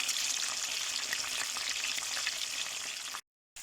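Steady, loud sizzling and crackling of peppers frying in a hot pan on a stovetop, continuous throughout, then a brief moment of silence near the end before it resumes.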